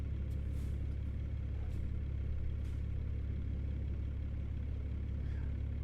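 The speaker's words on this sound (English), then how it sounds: "I put in a 750 horsepower engine of my own with a Slav Jerry C12 straight pipe sound pack" Simulated truck engine in American Truck Simulator, a modded 750 horsepower unit with a C12 straight pipe sound pack, drones in a steady low idle-like rumble throughout, loud and unbroken with no voices.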